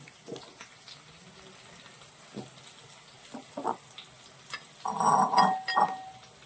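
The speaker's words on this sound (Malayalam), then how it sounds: "അതിനുശേഷം നമ്മൾ മുരിങ്ങയ്ക്ക ഇടുകയാണ്" Drumstick pieces dropped into a pan of simmering gravy while cooking a Bengali-style fish curry with vegetables, giving soft splashes and stirring clatter with a louder burst of bubbling and sizzling near the end.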